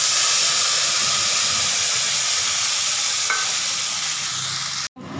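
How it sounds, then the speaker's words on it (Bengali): A paste of onion, garlic, melon seeds and cashews fries in hot oil with a loud, continuous sizzle and hiss close by, then briefly cuts out near the end. "পেঁয়াজ রসুন বাটা, চারমগজ আর কাজু বাদাম বাটা এই মিক্সচারটা আমি এর মধ্যে দিয়ে দিলাম।"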